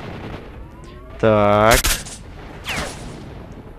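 Sniper rifle fire in a video game: one loud sharp shot with a ringing tonal tail, then a fainter second report about a second later, with someone speaking briefly.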